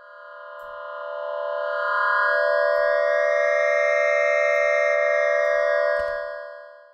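A bright celestial synth pad built from a stacked-harmonics patch in the Vital synthesizer. It swells in over about two seconds and holds a dense, shimmering chord before fading out, with soft ticks scattered through it.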